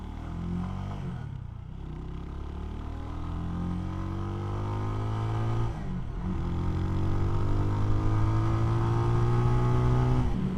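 A CSC SG250 cafe racer motorcycle ridden in fifth gear at about 30 mph, its engine droning steadily and rising slowly in pitch with two brief dips, heard up close under wind.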